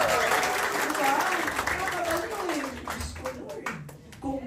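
Audience clapping, a dense rattle of many hands that runs steadily and then thins out near the end, with crowd noise and voices mixed underneath.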